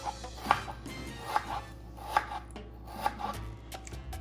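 A knife chops through a tomato on a cutting board in about five crisp, evenly spaced strokes, each under a second apart, fairly quiet with no voices.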